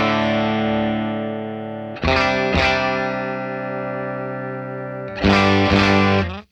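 Electric guitar played through a Dr. Z Z-80 amp, a tribute to the Vox AC-80, with the master volume turned up. Long ringing chords are struck three times and left to sustain, close and full.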